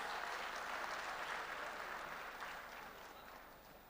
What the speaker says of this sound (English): Please encourage her with a round of applause.